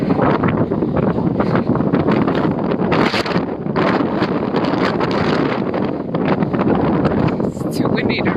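Heavy wind blows hard against the microphone in Mosfellsbær, Iceland, a dense continuous rumble that masks any other sound, including nearby water, swelling in gusts.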